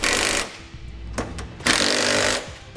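Close, loud bursts from an impact-style power tool snugging flange nuts on a Curt trailer hitch beneath a 2017 Nissan Leaf, two main rattling runs separated by short, quick taps.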